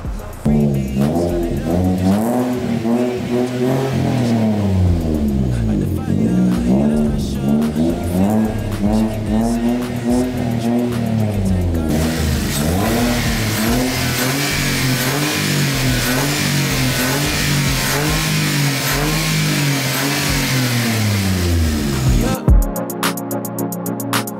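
A Toyota Wigo engine fitted with custom exhaust headers and intake revs repeatedly, rising and falling in loud, close, throaty sweeps. It holds a steady raspy drone between revs and cuts off sharply near the end.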